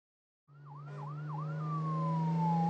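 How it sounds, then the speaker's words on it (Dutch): A fire engine siren in the Netherlands starts abruptly with a few quick warbling yelps, then settles into a long steady falling tone over a constant low engine drone, growing slightly louder. "Brandweerwagen."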